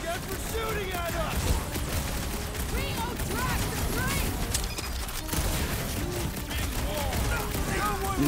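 Rapid bursts of gunfire and combat effects come from the Marvel's Guardians of the Galaxy video game. The dense bursts sit under constant character dialogue and shouting.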